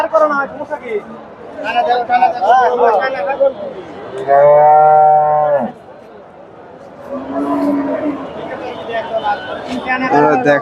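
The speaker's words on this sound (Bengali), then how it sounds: "মাসাল্লাহ অনেক বড় একটা গাভি ফ্রিজিয়ান জাতের" A Friesian cow lets out one long, deep moo close by, amid the chatter and babble of a busy crowd at a dairy cattle market in Bogura, Bangladesh.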